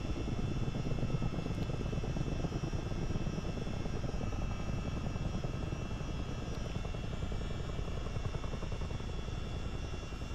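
A CH-47D Chinook twin-rotor helicopter in a flight simulator winds down during shutdown, a steady low rumbling engine and rotor drone with a faint high whine, continuous and fairly quiet.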